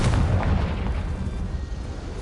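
Confringo fire spell explosion in Hogwarts Legacy, a loud, rumbling low blast that booms at once and fades over about two seconds.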